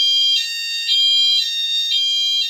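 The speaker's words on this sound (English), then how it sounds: "my fire alarm is going off" A fire alarm in a building sounds continuously, a loud, piercing electronic tone that pulses in steady, even beats for the whole stretch, with no voices.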